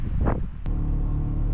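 Strong wind buffeting the microphone on an outdoor trail ride in a Polaris Ranger side-by-side, a continuous low roaring rumble with a gust swelling early, steady and close throughout.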